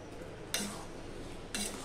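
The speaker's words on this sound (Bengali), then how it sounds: "সম্পূর্ণটা আমি মিশিয়ে নিলাম" Bhindi curry with kasuri methi being stirred in a pan, two brief scraping strokes of a spoon about a second apart over a low steady background hum, close and fairly quiet.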